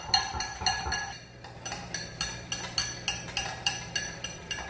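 Metal spoon stirring a small vinegar and soy sauce mixture in a dish, a quick run of faint, regular clinks about twice a second after a brief scrape, close and alone.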